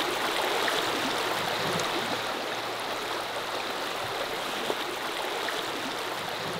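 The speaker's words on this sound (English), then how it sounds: "I love the sounds of the river." A river flows steadily in the wilderness, a constant close broadband rush of water with no talking over it.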